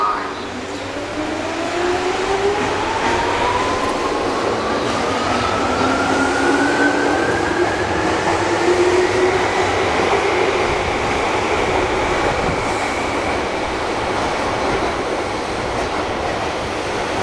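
A Tokyu 8500 series electric train running, its motor whine rising steadily in pitch as it accelerates, loud and close over a constant rumble of wheels on track.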